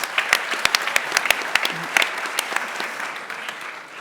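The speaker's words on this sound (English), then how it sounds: "Big applause for your please" Brisk applause from a modest audience at a startup demo day, individual claps distinct and sharp, fading slightly toward the end.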